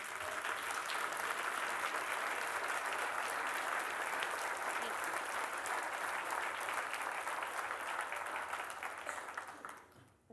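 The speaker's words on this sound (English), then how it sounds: "please stand up and let's give them a round of applause" A large audience claps steadily at a regional business breakfast event honoring manufacturing employees, a dense even applause that holds for several seconds before fading out quickly near the end.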